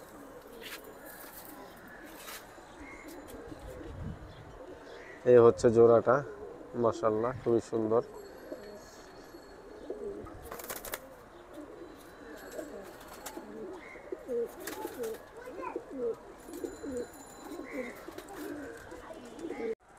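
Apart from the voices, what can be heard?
pair of Jabra tota pigeons cooing in a cage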